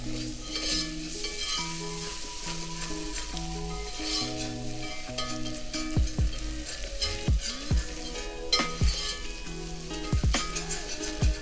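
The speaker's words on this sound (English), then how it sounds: "I'm just going to mix this through until it's smooth" Flour stirred into a potato soup base in a cooking pot, with a continuous sizzle and a steady scraping stir and several sharper knocks of the spoon against the pot, heard alone under soft background music.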